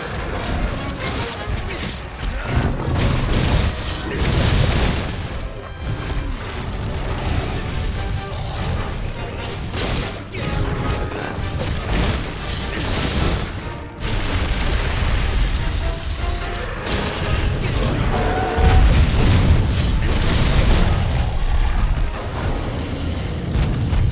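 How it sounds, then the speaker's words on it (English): Bomb pod slinger ammo exploding in a video game, with booming blasts over a dense, continuously loud wash of battle noise. "That's a bomb pod. Powerful type of slinger ammo that can do some serious damage."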